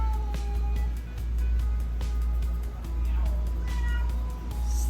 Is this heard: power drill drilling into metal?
no